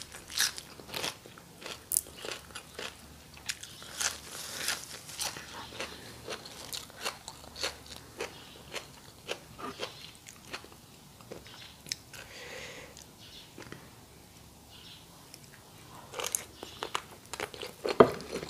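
Grilled squid tentacles dipped in spicy sauce are bitten and chewed close to the microphone, with repeated soft crunchy, sticky chewing sounds in an irregular rhythm, fairly quiet, with no talking.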